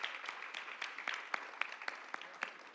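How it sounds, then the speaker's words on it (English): A leadership institute audience gives alumni a quiet round of applause, with distinct individual claps rising out of soft, scattered clapping. "We want to give you a round of applause."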